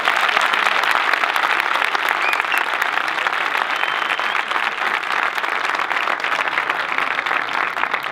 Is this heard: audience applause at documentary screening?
yes